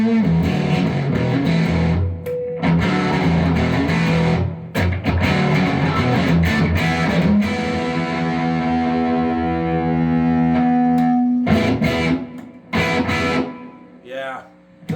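An electric partscaster guitar fitted with push-pull knobs and other modifications plays heavily distorted, effects-laden chords and sustained notes, loud and close, with a ringing held note fading toward the end.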